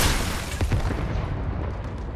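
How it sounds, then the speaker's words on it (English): Fortnite explosion from a dropped bomb or grenades, a broad booming burst at the start with a couple of quick follow-up thumps, then a dense rumbling wash of game noise. "NPC is dropping the freaking bomb, the grenades"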